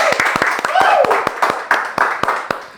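A studio audience claps at the opening of a talk show, sharp distinct hand claps spaced through the moment while a host speaks over them.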